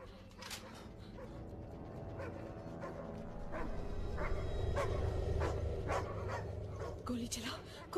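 A dog barks and yelps several times amid busy background noise and voices in a Hindi-dubbed action movie, the barks sharp and fairly close.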